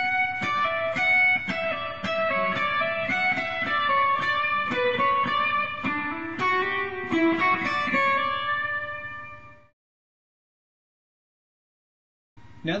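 Measure 21 of Pachelbel's Canon is played on a single instrument as a fast, continuous run of notes for about nine seconds. It stops abruptly into silence before a brief sound returns at the end.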